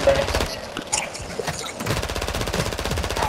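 Rapid automatic gunfire from a firefight in Warzone 2.0 DMZ, dense overlapping bursts close by that run continuously, with a brief lull before sustained firing resumes.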